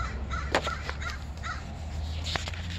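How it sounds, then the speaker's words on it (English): Crows caw a few times in short, harsh calls over steady background hum, moderately close, at a parrot aviary in Puerto Rico. "I also hope you enjoy my own squawking crows."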